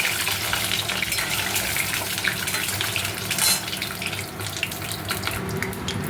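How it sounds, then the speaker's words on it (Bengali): Eggs frying in oil in a pan, a continuous dense sizzle and crackle with a running machine droning in the background throughout. "তেলে ডিমগুলো ভেজে নেব।"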